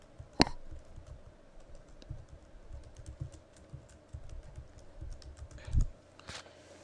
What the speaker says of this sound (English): you would just type in Mike's email address